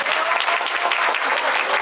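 Concert audience applauding a band member being introduced at a solo show at Rolling Hall; dense, steady clapping fills the room without a break, loud and close.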